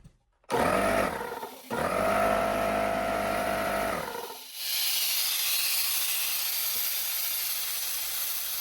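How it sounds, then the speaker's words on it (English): Compressed air hisses from a leaking fitting on an old air compressor. A tonal, droning burst with a brief break gives way to a loud, continuous broadband hiss that carries on steadily to the end. "With that much air leaking out, I know this compressor is actually building pressure"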